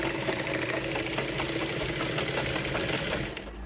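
A sewing machine runs steadily and close up, stitching a 1/4-inch seam on a blouse piece with an extra lining piece laid on top, a fast even whirring that winds down at the end.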